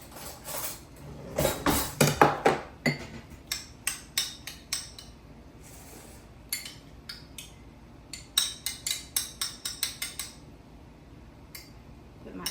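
A metal spoon clanks and scrapes against a casserole dish of breakfast casserole with gravy, in bursts of quick clinks and taps, loudest early on, then scattered knocks and a second flurry of rapid clatter.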